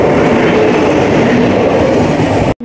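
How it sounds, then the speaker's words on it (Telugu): Kanyakumari Vivek Express train arriving at Krishna Canal Junction, a loud steady rumble of wheels and cars close by with no voices, ending in a sudden brief cutoff. "ఏ ట్రైన్ అనుకున్నారు ఇది? కన్యాకుమారి త్రిపుగర్ వివేక్ ఎక్స్ప్రెస్ అండి."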